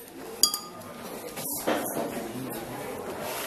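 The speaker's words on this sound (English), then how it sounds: "You will stir so as to get a uniform mixture." A mixture is stirred in a container during a school science demonstration, with a bright clink at the start followed by soft scraping and rubbing as the spoon moves around.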